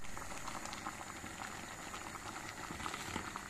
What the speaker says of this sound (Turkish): kaktüs reçelimiz arkadaşlar kaynıyor